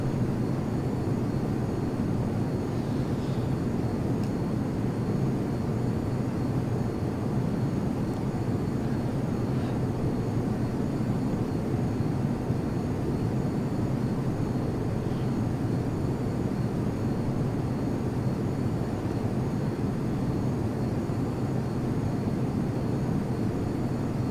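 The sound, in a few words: F-22 Raptor jet engine in Prepar3D flight simulator video game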